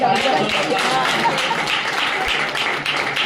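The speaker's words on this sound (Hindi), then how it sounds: "साहब के लिए जोरदार तालियां" A crowd at a magnetic product demonstration seminar claps heartily, a close, loud and continuous roar of applause with voices faintly blended in beneath it.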